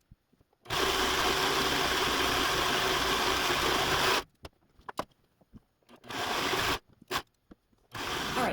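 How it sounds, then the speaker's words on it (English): A serger runs a 4-inch strip of vintage quilt fabric in bursts: one long continuous whir of about three and a half seconds, then several shorter runs separated by brief pauses and small clicks, close and fairly quiet. "we're going to run this entire strip through our serger"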